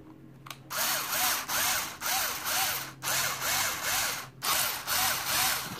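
Drilling out a rivet in a diecast metal toy vehicle in short repeated bursts, each a few seconds or less, with brief pauses between; close and loud, no voices.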